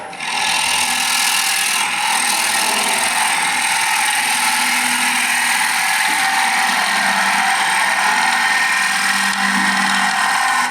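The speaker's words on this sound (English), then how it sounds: "I'm going to turn a lump in the bottom of this bowl" A wood lathe turns a bowl while a tool cuts a lump in its bottom, giving a loud, continuous, steady whirring hiss with slight shifts in pitch, no talking.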